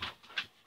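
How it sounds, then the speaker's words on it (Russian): A Labrador and a Bernese mountain dog pant close by in quick, breathy puffs, three short bursts that are soft and airy. "мої собаки."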